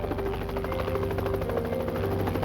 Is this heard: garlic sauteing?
no